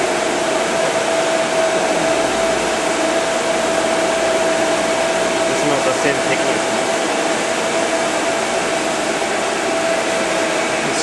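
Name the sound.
GEM GBM3143 glass bevelling machine grinding a bevel on glass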